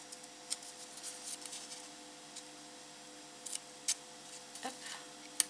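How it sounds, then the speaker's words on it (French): A pair of scissors snips a small square out of a photo, giving a few faint, quiet clicks and short cutting sounds spaced irregularly against a near-silent background. "avec une paire de ciseaux, on va couper ici le petit carré"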